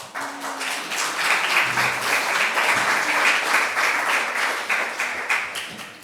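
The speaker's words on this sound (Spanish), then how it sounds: "si les dais un aplauso a ellas" A theatre audience applauds at a tribute event, sustained dense clapping from many hands that swells and holds steady, filling the room without speech.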